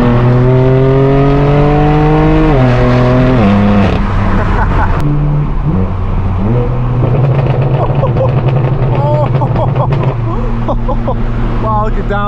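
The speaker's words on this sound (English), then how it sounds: "let's go ahead and enjoy the straight piped M4 on the way and pull up to the meet." A straight-piped BMW M4 F82 drones loudly on a highway, its exhaust pitch climbing through gears with shifts and a crackly off-throttle burble, steady and close throughout with a voice talking over it.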